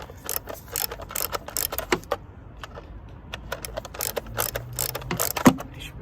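A ratcheting wrench works on 8mm bolts underneath a Hyundai i, giving close, quick bursts of metallic clicks separated by short pauses.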